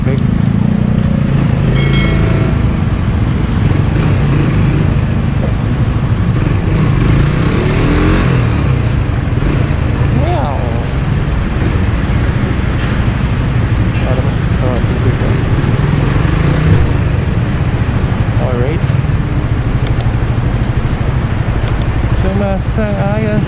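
Road traffic with cars and motorcycles in stop-and-go flow, engines revving and accelerating nearby amid a constant rumble, while a rider talks over the noise.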